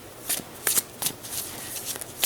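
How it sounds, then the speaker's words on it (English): A wizard deck of tarot cards is shuffled by hand, several quick papery riffles and flicks in an uneven rhythm, close and fairly quiet. "First, of course, we're going to shuffle the cards."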